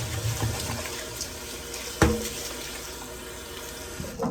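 Tap water runs steadily into a sink while rice is washed, a constant close splashing hiss with a sharp knock near the middle and another toward the end.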